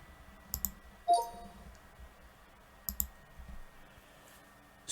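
A few soft, sharp computer mouse clicks, spaced apart, activate Microsoft Word's Dictate feature in a quiet room.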